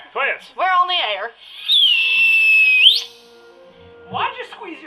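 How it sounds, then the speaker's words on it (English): A person whistles through pursed lips in a radio drama, one sustained gliding tone lasting about a second, with talk just before and after. "So I can make a whistling"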